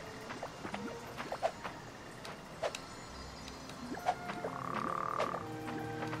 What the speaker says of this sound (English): But I'm gonna catch this frog too.